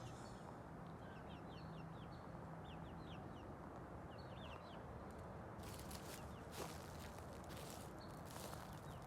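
Faint clucking and chirping from a group of chickens, set back in a steady outdoor hiss with no voices.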